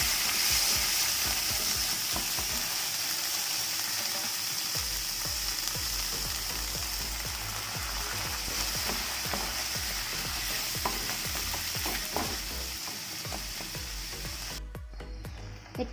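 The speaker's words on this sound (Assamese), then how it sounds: "পানীখিনি দি ভালদৰে আকৌ লৰাই দিম।" Pointed gourd gravy being stirred in a pan after water is added, with a steady close frying sizzle and repeated scraping stir strokes throughout, no voices.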